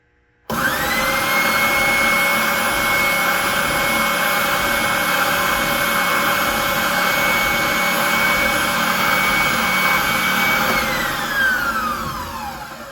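A WEN oscillating spindle sander switches on, runs as a steady loud whine with a motor hum for about ten seconds, then winds down near the end, with no talk over it.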